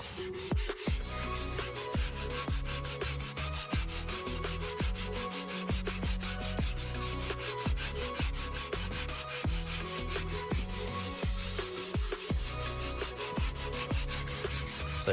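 Light, steady back-and-forth strokes sand the surface of a leather steering wheel during reconditioning, an even rhythmic rubbing that continues close and unbroken throughout with no voices.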